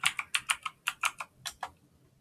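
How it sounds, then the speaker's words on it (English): A password is typed on a computer keyboard as a quick run of about a dozen crisp, close key clicks in an uneven rhythm, with no other sound around them. "And of course I have to type the right password."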